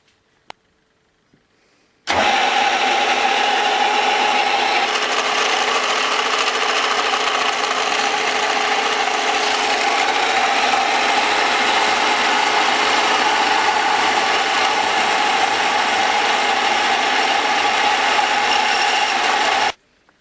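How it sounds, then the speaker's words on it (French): A drill bores into an aluminium motorcycle gearbox cover clamped on a machine, giving a loud, steady whirring drone that starts abruptly after a quiet opening and runs unbroken to the end. "Le carter a été bridé en position d'usinage et est prêt à subir la première opération qui consiste à le percer au-delà de la partie qui reçoit le roulement."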